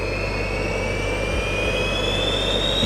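The five small jet turbines of a Gravity jet suit spool up together from cold, a loud, steady roar topped by a high whine that slowly climbs in pitch toward idle.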